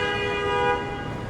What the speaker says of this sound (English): the drivers behind you get so mad and honk their horns.